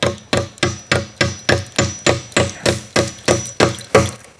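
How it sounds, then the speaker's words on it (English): A hammer driving a nail into a wooden cross, eleven sharp, evenly spaced blows in a steady rhythm, each a loud close knock with a short ringing decay. "then you take a nail and you hammer the nail"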